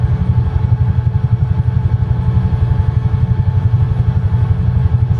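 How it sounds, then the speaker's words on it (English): Simulated UH-1 Huey helicopter in Microsoft Flight Simulator, its rotor chop forming a fast, even, low thumping pulse over a constant engine drone, loud and close. "I love this helicopter."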